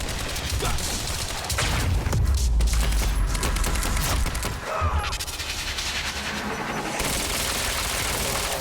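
A grenade blast amid gunfire in the video game Quantum Break, a deep rumbling boom inside a dense, continuous wall of loud combat noise.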